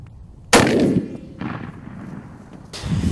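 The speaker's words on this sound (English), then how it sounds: "Finally, the 3rd time out, I had a shot on a bull Kent would harvest." Single loud rifle shot fired at a buffalo bull during a hunt, a sharp crack with a rolling tail, followed by fainter echoing reports outdoors.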